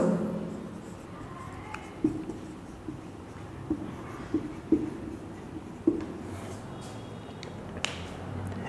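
Chalk or marker writing on a classroom board, with light scratchy strokes and a few sharp taps as characters are formed, over steady room noise.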